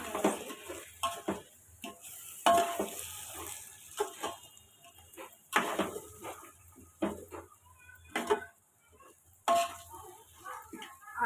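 Biryani being stirred in a cooking pot: a spoon scrapes and clinks against the metal in irregular bursts, close and moderately loud, with short pauses between strokes.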